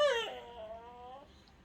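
A dog whimpering in a room, a single high, wavering whine that slides downward and fades over about a second, fairly close and alone.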